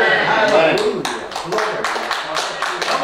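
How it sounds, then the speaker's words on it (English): A church congregation claps by hand in a steady rhythm of sharp claps that runs under a preacher's loud speaking. "He's worth a hand clap."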